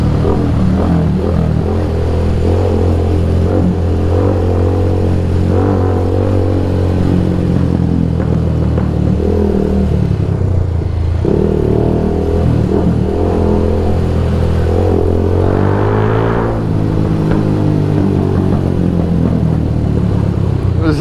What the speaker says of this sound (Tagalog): Lakas ng ating muffler, mapapaaway tayo nito.